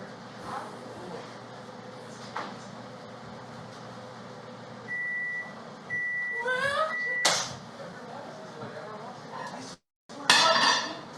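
Kitchen microwave beeping at close range, a steady tone repeated in short bursts amid clattering dishes and handling noises, with a sharp clunk of the door and talk in the room.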